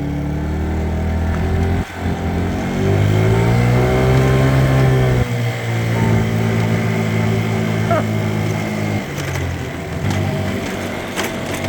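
A repaired scooter engine, newly brought back from a broken state, idles and then pulls away on its first ride with a steady droning hum that rises in pitch, a brief clunk, and occasional talk over it.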